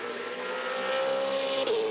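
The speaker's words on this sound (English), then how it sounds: "Ash Walsh's car through turn one, two." V8 Supercar race cars from the 2014 Dunlop V8 Supercar Series at the Adelaide 500 street circuit sweep through turn one and two, a steady loud engine drone with a rising whine near the end, no voices.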